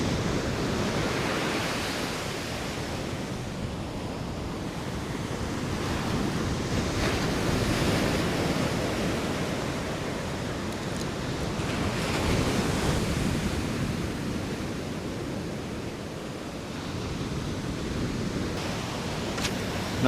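Ocean surf rolls and breaks steadily on a California beach during striped bass surf fishing, a continuous loud wash swelling and easing in slow surges, with wind buffeting the microphone and no voices.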